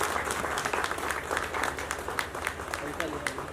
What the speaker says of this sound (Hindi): पुरजोर तालियों से इस्तकबाल करें।